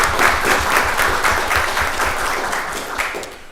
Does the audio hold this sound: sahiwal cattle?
no